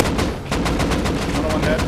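Rapid automatic gunfire in the survival video game Rust, loud dense bursts of repeated shots firing throughout with little pause.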